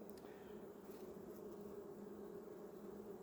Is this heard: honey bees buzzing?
yes